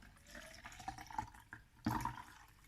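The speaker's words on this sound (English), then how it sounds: "So we're going to put water in." Water pours from a big jug into a container for a homemade lava lamp, a quiet trickling and splashing with a couple of brief gurgles, faint and close.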